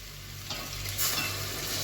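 White okra being stirred with onion and garlic in a pot, giving a steady close sizzle with scraping stir noises throughout, brightening partway through.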